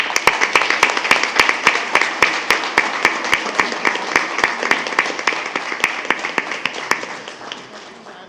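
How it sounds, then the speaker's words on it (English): A small group claps at a school board meeting, with crisp, distinct hand claps in a steady patter that gradually thins and fades out over several seconds. "please join me in a round of applause"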